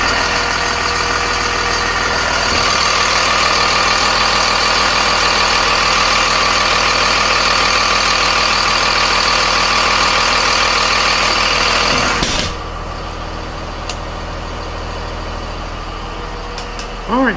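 A 2003 Blue Bird TC2000 42-passenger bus with a Cummins 5.9 liter turbo diesel idles loud and close in a steady, even rumble, then drops sharply in level near the end, with some talking over it.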